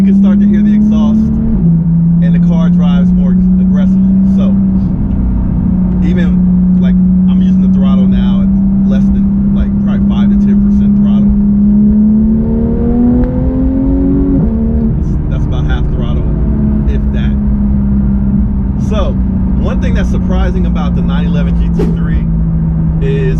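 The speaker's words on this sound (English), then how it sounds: "Once I press that button for PDK on, then you can start to hear the exhaust" Steady exhaust note from a Porsche 911 GT3 991.1 with PDK sport mode on, a continuous droning hum that rises in pitch midway then settles, heard under a person talking throughout.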